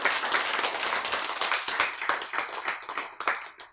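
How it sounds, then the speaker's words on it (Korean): A lecture audience claps on cue, with a close, uneven patter of many hands that holds steady for a few seconds and stays fairly quiet. "박수."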